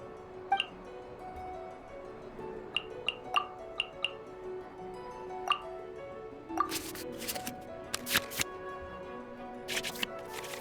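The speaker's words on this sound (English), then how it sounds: "we can select any number of cards in our hand to shuffle back into the draw pile" Card sounds from the Genshin Impact card game as cards are shuffled back into the draw pile: a run of light, bright clicks and plinks followed by quick papery swishes and flicks, soft against a faint background.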